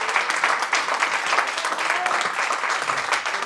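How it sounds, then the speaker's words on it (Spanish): A church congregation applauds steadily during a Spanish-language sermon, dense continuous clapping filling the room with no voices standing out. "Den un aplauso al Cristo de gloria."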